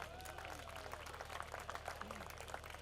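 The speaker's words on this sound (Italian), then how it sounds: "Ancora un grande applauso." Audience applause at an evening fashion show, a steady wash of clapping from a crowd, fairly faint and distant, with faint voices mixed in.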